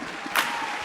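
Studio audience on a night talk show cheering and applauding in a brief burst of crowd noise with a couple of louder swells.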